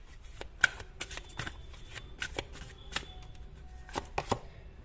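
Tarot cards being shuffled and drawn from a deck, a close, quiet series of irregular riffling flicks and soft snaps, with no voices.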